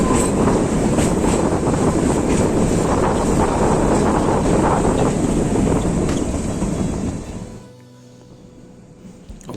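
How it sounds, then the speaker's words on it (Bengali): Himachal toy train running in the Shimla hills at sunrise, a loud continuous rolling rumble heavily buffeted by wind noise, dropping away sharply near the end. "আর এই হলো আমাদের টয় ট্রেন।"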